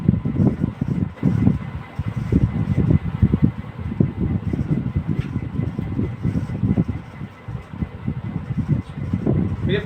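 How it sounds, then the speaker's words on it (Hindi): An electric ceiling fan running in a room gives a steady low whirring hum with rumbly air buffeting across the whole stretch, close and continuous, with no speech over it. "ये पंखा बंद कर दीजिएगा"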